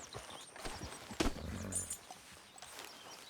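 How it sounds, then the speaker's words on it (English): A horse in the Red Dead Redemption 2 video game clip-clops with a few hoofbeats, then gives a short whinny in the middle, heard fairly close over a quiet outdoor game ambience. "But I do kind of like this horse."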